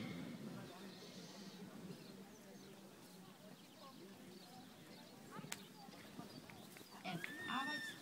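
A horse trotting in a dressage arena, steady muffled hoofbeats with an occasional whinny and birds in the background, while a voice calls out the test movements.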